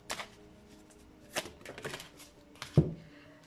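Tarot cards being shuffled for a pick-a-card reading, with several soft riffling and slapping bursts spread across the moment and a sharper snap near the end, close and fairly quiet.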